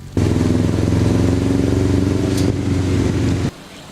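A handmade vehicle built in Bafoussam runs with its engine going, a steady loud rumbling motor note close by that holds evenly for about three seconds, then cuts off abruptly.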